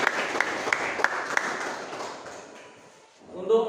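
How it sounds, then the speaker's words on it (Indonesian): Classmates clap for presenters during a classroom lesson, a short run of distinct claps fading out after a couple of seconds, followed by near silence and then a voice beginning. "tepuk tangan untuk kawan-kawan"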